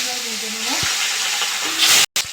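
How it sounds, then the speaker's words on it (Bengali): Rohu fish pieces frying in hot oil give off a broad, loud sizzle and hiss that runs steadily, with a few faint clinks and a brief dropout near the end. "এক সাইডে ভাজা হয়ে গেছে আবার উল্টো পাশে ভালো করে ভেজে নেব মাছগুলো"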